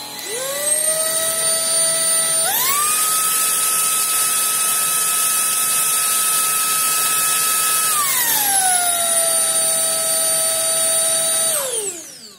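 A Xiaomi Jimmy V51 cordless vacuum cleaner spins up to a loud, high motor whine, steps up to a higher pitch, then drops back down before switching off.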